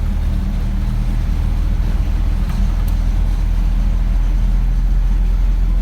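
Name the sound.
car engine accelerating during a driving lesson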